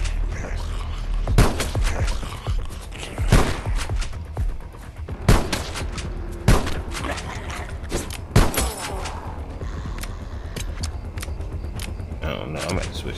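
Shotgun fire in the game LifeAfter: about eight heavy, sharp blasts at irregular intervals, close and loud, with someone talking between shots.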